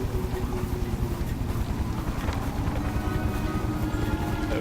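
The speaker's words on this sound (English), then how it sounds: "You hear that engine?" Engine machinery drones steadily in the game The Book of Unwritten Tales: The Critter Chronicles, a close, continuous low rumble with a fast, even mechanical pulse and no pauses.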